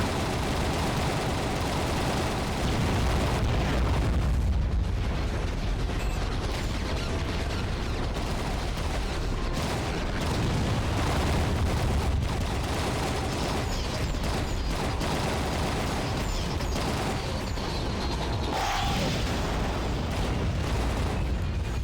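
A Gatling gun in the underwater game AquaNox fires continuously, forming a dense, loud, unbroken roar of rapid shots mixed with heavy rumbling explosions throughout.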